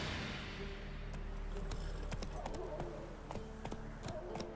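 Hooves clatter in a quick, fairly faint galloping rhythm as a horse runs in the video game The Witcher 3, over steady background ambience.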